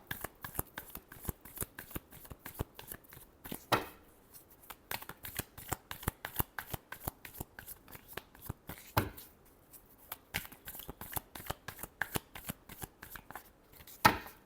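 A deck of tarot cards is shuffled by hand, close and fairly quiet, in a long run of quick riffling slaps and flutters with short pauses between bursts and almost no voice.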